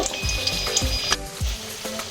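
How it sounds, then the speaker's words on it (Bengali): Veg cheese bread pakoras frying in oil, with a steady crackling sizzle broken by repeated low thumps and clinks as pieces are turned in the pan. "আমরা এইভাবে সব ভেজে নেব।"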